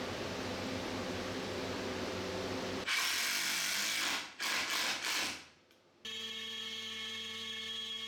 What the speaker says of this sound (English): The CNC is one of my favorite tools. I think it's really fun to use, and what I'm doing here is a 3D carving.